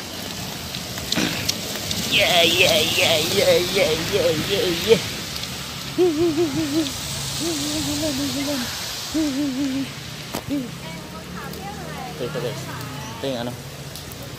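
Rain falls steadily outdoors near a clinic in Taiwan, a soft, continuous hiss running beneath a person's nearby talking throughout.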